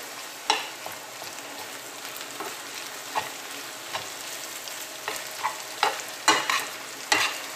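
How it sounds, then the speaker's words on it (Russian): Steady sizzling of boiled chicken and onions frying in a pan, broken by sharp clicks and scrapes of a utensil stirring every second or so, no voices. "И жарим теперь с ним."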